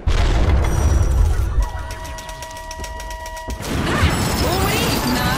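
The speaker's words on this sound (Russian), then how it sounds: "Выстрел." A shot fired in the Dota 2 video game sounds as a loud booming blast with crashing mechanical clatter, followed by a bright ringing tonal stretch and another burst of dense game noise.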